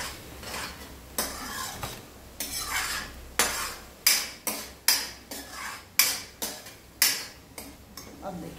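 Green peas masala roasting in oil in a pan for a dry matar curry, with a spoon scraping and clinking in a steady series of sharp strokes over a low sizzle, close and fairly loud, no talking.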